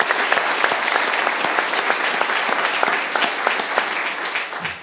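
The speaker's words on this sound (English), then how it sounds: "So one more round of applause for our Board of Trustees." Warm, dense applause from a breakfast gathering honours a school district's board of trustees, steady and sustained for about five seconds with crisp individual claps standing out before it begins to fade.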